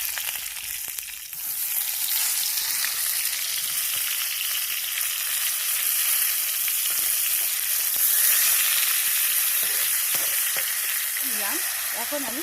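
Pointed gourd pieces fry in hot oil with bay leaf, dried chilli and whole cumin, a dense, continuous sizzle close by with occasional stirring scrapes and crackles.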